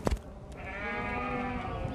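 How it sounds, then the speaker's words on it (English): Sheep waiting to be shorn in a shearing shed let out a long, wavering bleat at close range, over a busy background of low shuffling and farm noise. "we'll just hang out here with the sheep to be shorn for a minute"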